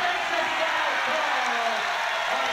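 Basketball crowd at a Sheffield Sharks versus Newcastle Eagles game, a dense continuous roar of cheering and applause filling the arena, with voices in and around the crowd noise.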